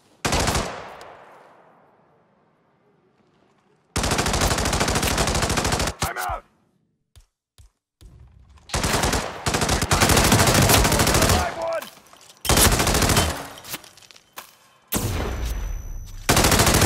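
Rifle fire in the video game Hitman 3 comes in loud, sustained automatic bursts, several long volleys separated by short gaps and single sharp shots, with a shout heard at the start.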